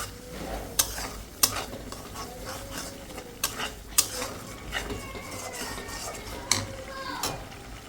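Spice paste stir-fried in a pan, a steady sizzle broken by sharp, repeated clacks of a spatula scraping and striking the pan at irregular intervals.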